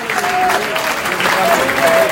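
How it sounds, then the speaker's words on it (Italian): Audience applause for the president at the award ceremony of Barletta's first beauty contest, a dense steady clapping sustained throughout with a few faint voices and whistle-like tones over it. "un applauso per lui."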